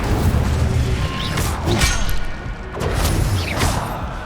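Incendio fire spell cast in Hogwarts Legacy, a loud whooshing burst of flame with heavy booming thumps, followed by a second rumbling blast a moment later, close and without talk.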